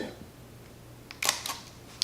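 A Fujifilm camera's shutter fires with a Godox TT685F flash in high-speed sync mode, giving a quick pair of crisp mechanical clicks in a quiet room, with no talking.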